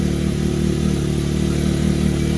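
A 2021 Can-Am X3 XRS Turbo RR engine runs steadily through its stock exhaust with no catalytic converter, a low, even, fairly quiet rumbling hum close by, with no talking.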